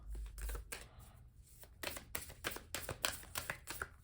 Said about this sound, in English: And then we'll do quick little hand shuffle also.